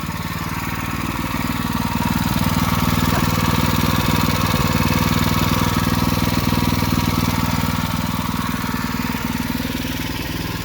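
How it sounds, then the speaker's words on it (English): A carbureted motor engine runs steadily and loudly throughout, a continuous rumbling drone with a rapid rhythmic chug. "3 hours that motor's been running. The engine's been running."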